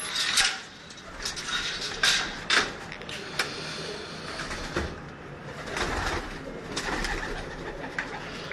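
Pigeons cooing in a loft of fancy breed birds kept in cages, soft coos mixed with sharp wing flaps and clattering bursts, close by, with background noise throughout.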